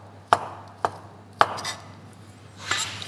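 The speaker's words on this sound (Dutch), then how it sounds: "We gaan er het velletje af doen. We gaan dat gewoon in blokjes snijden." A knife chops capon skin into small cubes on a cutting board, with three sharp separate knocks about half a second apart, then softer scraping. The sounds are close and there is no talk.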